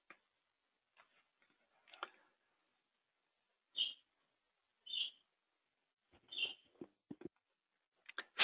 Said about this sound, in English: is that a bird that you have in your background?